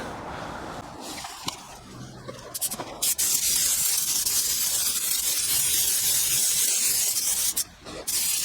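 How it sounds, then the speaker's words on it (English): Spray gun laying a light first coat of paint on a car, a loud, steady broadband hiss running almost the whole time, with brief pauses and a few short bursts and bumps near the start. "So let's get on with the first coat and I will update you on the way what I'm doing and how I'm doing it."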